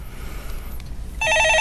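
A telephone rings on a Korean stock-market call-in radio show: a single loud, close electronic ring bursts in after a brief low hum.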